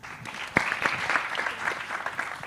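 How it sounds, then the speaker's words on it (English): Audience applause at a university mental health conference, a steady burst of many hands clapping in a hall, fairly loud and sustained with a few sharper individual claps standing out. "Let's clap for her."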